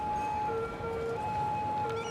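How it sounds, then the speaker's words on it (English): A two-tone fire truck siren in the video game Cities: Skylines wails back and forth steadily, alternating high and low pitches over a constant background hum, fairly loud and continuous. "I can hear sirens."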